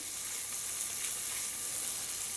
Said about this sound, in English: And we're just going to stir this up. Mix it in.